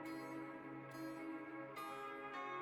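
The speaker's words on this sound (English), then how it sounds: "But you hear the bell." Bell strikes ring out in sequence, each clear tonal peal with lingering overtones, struck about every second, faint and without talk.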